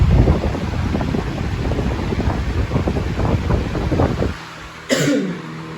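A 2004 Galaxy box fan runs on its high setting, giving a steady, close broadband whoosh of rushing air that cuts off abruptly, followed by a brief click or thump.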